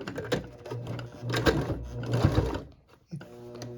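A home sewing machine stitches a martial arts uniform lapel about 1/8 inch from the edge, running in a close, steady mechanical whir that briefly stops near the end before restarting.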